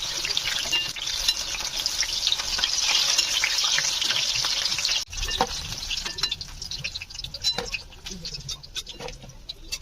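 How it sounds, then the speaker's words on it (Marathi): Paneer and capsicum pieces coated in maida and cornflour batter deep-fry in hot oil with a loud, continuous bubbling sizzle, close up, along with occasional stirring clinks and splashes. "मैदा आणि कॉर्नफ्लॉवरच्या बॅटर मध्ये आपण मिक्स करून घेऊ आणि तळून घेऊया."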